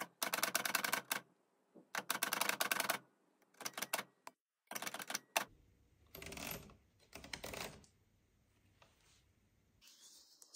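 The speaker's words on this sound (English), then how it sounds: "I'll take this to my typewriter again and type overcoming obstacles on this as well" Typewriter keys clatter in quick close bursts of rapid strikes separated by short silences, with a few lighter clicks and a carriage-like scrape toward the end.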